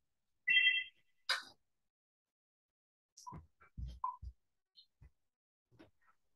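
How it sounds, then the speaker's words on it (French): A telephone rings in two short electronic bursts near the start, followed by scattered knocks and handling noises as someone moves about, with no talk over it. "Oh mince, il y a le téléphone."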